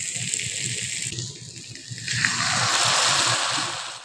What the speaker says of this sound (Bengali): এবার আমি পরিমাণ মতো জলটা দিয়ে দিচ্ছি।